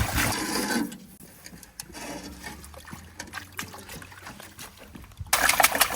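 A gold pan holding water and material being shaken, water sloshing and trickling in bursts with gritty swishes, loud at the start and end with quieter dribbling between.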